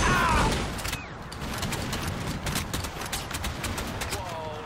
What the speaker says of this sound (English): I love a good shotgun